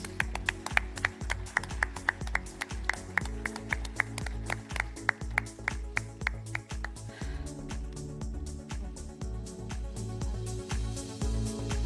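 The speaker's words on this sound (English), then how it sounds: "Ladies and gentlemen, huge round of applause." Audience applause at the News9 Summit 2024, a rhythmic run of sharp claps that starts out distinct and then blurs into denser, softer clapping.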